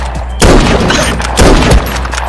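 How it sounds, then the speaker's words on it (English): Sniper rifle shots in the video game Krunker, two loud booming blasts about a second apart, each with a short heavy tail, over a steady low background hum. "Quick scope headshot."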